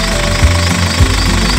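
A car engine keeps running with the battery terminals disconnected during an alternator check, giving a loud, steady rhythmic knocking that pulses about three times a second with a deep rumble underneath.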